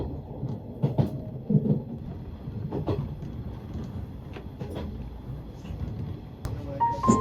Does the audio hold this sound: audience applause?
no